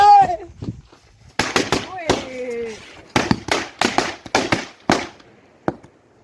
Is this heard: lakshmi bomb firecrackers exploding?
yes